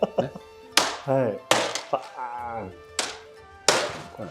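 Sharp wooden thunks ring out as a jō staff in Kobudo kenjutsu and jōjutsu practice strikes protective gear, several distinct hits spaced apart, with someone talking between them.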